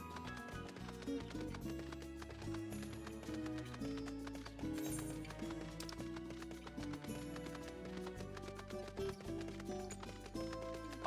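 Horse hooves in Final Fantasy XIV clip-clop in a quick, steady rhythm over background music.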